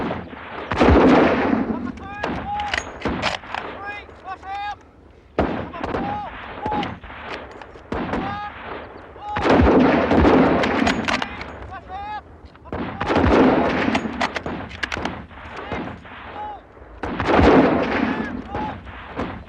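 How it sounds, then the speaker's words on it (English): Soldiers in a WWI-era Anzac setting fire rifles at targets, the repeated sharp reports forming dense volleys in several bursts, loud and close, with voices and shouting mixed in. "At your targets! 10 rounds! Fire!"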